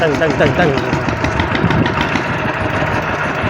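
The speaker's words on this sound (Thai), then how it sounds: "รถไถหน้าตึง" A two-wheel walking tractor running on a rural village road, its engine chugging steadily with a low, knocking rumble, close and fairly loud throughout.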